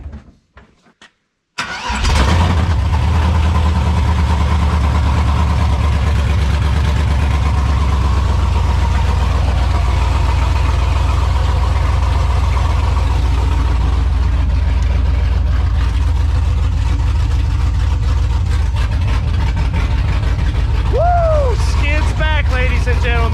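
A repaired car nicknamed Skidmark cranks and fires up, then settles into a loud, steady, rumbling idle that runs for over twenty seconds, with a brief higher whine near the end.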